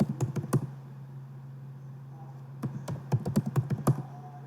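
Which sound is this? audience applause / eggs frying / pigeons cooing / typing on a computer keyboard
typing on a computer keyboard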